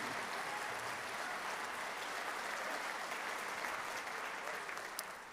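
Audience applause at a city's 2021 State of the City address, a steady, dense wash of clapping that holds evenly throughout and sounds somewhat distant and subdued.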